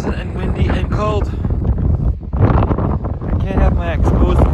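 Strong, cold wind buffets the microphone in low rumbling gusts while a person speaks over it outdoors at Grayson Highlands on the Appalachian Trail.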